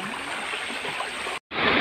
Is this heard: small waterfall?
yes